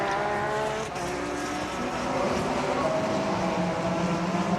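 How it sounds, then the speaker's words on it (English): A Kessel Racing Ferrari GT3 race car at the 2009 FIA GT3 European Championship round at Zolder, its engine a loud, steady, sustained drone with no voices over it. "That is the Kessel Racing Ferrari."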